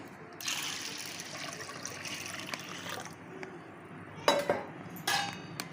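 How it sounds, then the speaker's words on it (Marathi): Water poured into a pot of washed lentils in a home kitchen: a soft, continuous stream and trickle, followed by a few utensil clinks and bumps near the end. Close and quiet, with no voices. "आणि याच्यात पाणी घालूयात आपण"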